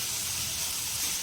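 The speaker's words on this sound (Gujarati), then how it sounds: "હવે આપણે આ ડુંગળીને સારી રીતે સાંતળી લઈશું." Onions sautéing in a pan for a puffed-rice snack make a steady, close hissing sizzle that barely changes over the short stretch, with no talking.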